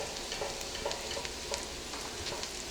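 Lobster and crab claws browning in a hot pan, a soft continuous sizzle with occasional stirring scrapes, quiet and close, with no talk.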